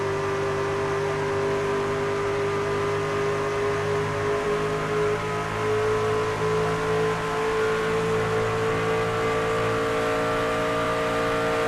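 Race trucks in an Outcast Truck Series event at Kentucky, engines droning steadily at high revs with a sustained whine and a slight rise in pitch as they throttle up, loud and continuous with no talk.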